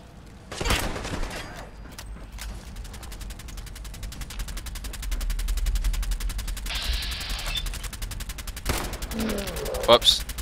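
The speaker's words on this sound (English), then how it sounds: "Didn't really mean to shoot him in the leg" Gunfire in Fallout 4, a dense run of rapid sharp cracks through most of the clip with a louder shot near the start, under game ambience and sound effects.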